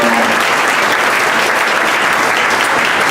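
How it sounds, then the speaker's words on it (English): A crowd gives a loud, dense round of applause, continuous clapping filling the room evenly from start to finish, with no talk over it. "I just wanted to please give them a big round of applause for representing Greg"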